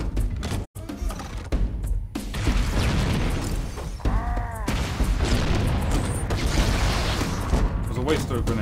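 Rocket launcher blasts and explosions in Halo: Combat Evolved, loud crashing booms and shattering impacts over continuous gunfire and battle noise, with a player talking over parts of it.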